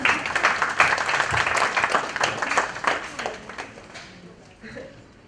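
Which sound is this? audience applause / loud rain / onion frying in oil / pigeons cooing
audience applause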